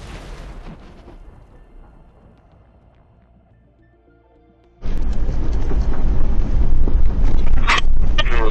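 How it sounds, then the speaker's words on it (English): Ammunition cooking off inside a howitzer struck by an FPV drone: a quieter rumbling stretch gives way to a sudden, sustained loud roaring blast with crackling bursts, heard alone without talk. "The howitzer was powerfully destroyed by the explosion of the ammunition inside."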